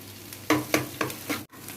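Chopped onion frying lightly in hot oil in a pan beside garlic, a soft close sizzle broken by four distinct stirring scrapes, then a sudden cutoff; no one speaks.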